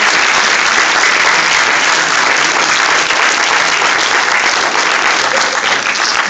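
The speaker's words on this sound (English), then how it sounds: "let's give them one more round of applause" Steady, dense applause from a high school wind ensemble's audience fills the space for several seconds, loud and continuous with no break or talk over it.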